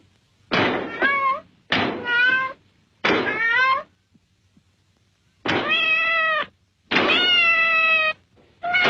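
A cat meows five times in distinct, drawn-out calls separated by short pauses, close and fairly loud in a quiet room.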